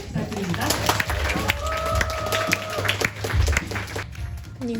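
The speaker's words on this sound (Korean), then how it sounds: "큰 박수 부탁드립니다." Scattered applause from an audience at a talk event with a film director, actor and psychiatrist, fairly light and diffuse, mixed with crowd noise and a low hum, with a few voices briefly audible.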